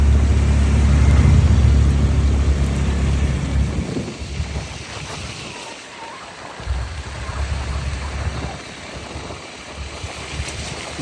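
Heavy rain pours steadily in the mountains near Mussoorie with low rumbling thunder, loud and broadband at first, then easing into a softer patter with scattered rolls.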